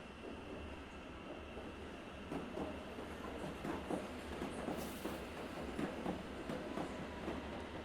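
A London Underground S-Stock train arriving on the Metropolitan line, a faint, distant rumble with soft rhythmic clicks of wheels over rail joints that grows slightly louder, with no talk.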